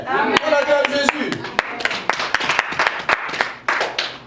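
Congregation clapping during a Sunday church service, a quick rhythmic run of claps from a crowd with a voice speaking over the start.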